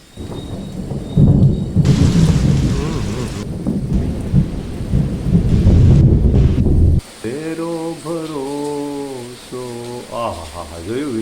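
Heavy rain with loud thunder roars with a deep, rumbling boom for several seconds, then cuts off, and a person talks for the remaining seconds.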